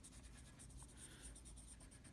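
A colored pencil scribbles small tight circles across textured paper, a steady soft scratching that continues without pause, close and quiet.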